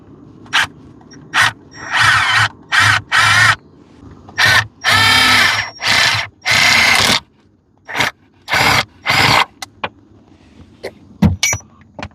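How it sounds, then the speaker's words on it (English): A handheld power drill with a 5/16 bit bores through a car's metal clutch delete plate in a series of short, loud whirring bursts with brief pauses between them, close up and free of talk. "we're going to drill directly through that clutch delete plate"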